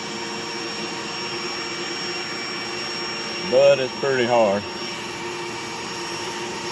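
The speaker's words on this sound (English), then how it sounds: "Pretty hard to film and vacuum at the same time too." A vacuum cleaner runs steadily throughout, a loud continuous whine and roar while beetles are sucked from a beehive, with someone speaking briefly over it.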